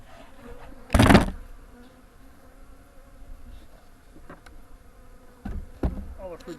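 Honeybees at an open hive during a pollen-patty feeding check, a low steady hum of many bees with two louder close buzzes as individual bees pass near, one at the start and another near the end.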